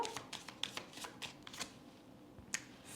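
Tarot cards being shuffled by hand during a reading, a run of soft papery riffles and flicks with a few sharper snaps, fairly close and clear, with no talking.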